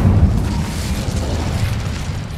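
Incendio fire spell in Hogwarts Legacy: a deep, rumbling fiery blast that bursts at the start and keeps roaring at near-constant loudness.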